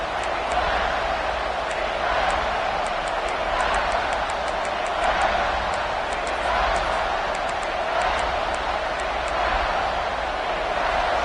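Stadium crowd noise in a college football video game, a constant loud roar of cheering fans that swells slightly in waves, with faint speech underneath.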